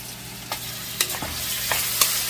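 Shiitake mushrooms stir-fry for chopsuey in a hot pan, a continuous sizzle broken by several sharp spatula clacks and stirring scrapes close by.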